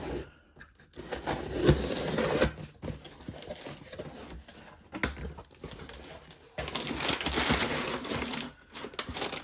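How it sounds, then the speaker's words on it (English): A cardboard box holding a Tekton 19-piece metric combination wrench set with tray is opened up close, with uneven bursts of scraping, rustling and tearing separated by short pauses and no talk. "So let's open our box"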